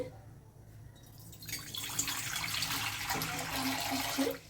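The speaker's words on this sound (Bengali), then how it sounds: "এবার আমি এর মধ্যে একটু জল দিয়ে দিচ্ছি" Water is poured into a pan on a gas stove, a quiet splash that builds into a steady, louder pour lasting several seconds with faint drips near the end.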